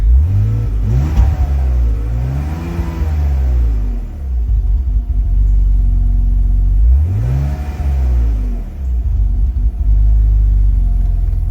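A BMW E46 engine with vacuum leaks idles roughly nearby, its low rumble rising and falling twice as the idle hunts, with a slight sputter.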